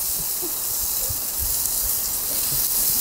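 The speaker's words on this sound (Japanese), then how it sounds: "ジュージュー言ってるよ、ジュージュー。" Steady, hissing sizzle of steak searing in an iron frying pan over a campfire, continuous and fairly close, with faint pops underneath.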